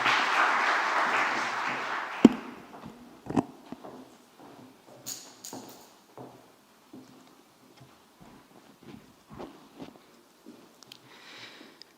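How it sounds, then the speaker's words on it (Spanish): An audience gives loud applause at a book presentation in a state congress hall. The clapping lasts about two seconds, then stops abruptly, leaving a quiet room with scattered shuffles and small knocks. "Recibámosle, por favor, con un muy fuerte aplauso."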